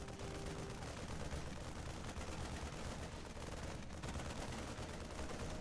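Rapid StarCraft 2 Marine rifle fire in a Terran versus Zerg match, a dense continuous crackle of video game gunfire holding steady for several seconds with no voices over it.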